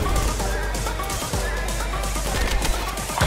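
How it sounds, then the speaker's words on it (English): Rapid bursts of gunfire rattle through a Call of Duty Cold War match and run almost continuously, loud and close, under a busy game mix with some talking. "You're taking fire!"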